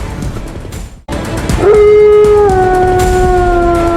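A dog lets out a long, loud, wavering howl close by. It rises and holds over a noisy background after a short gap.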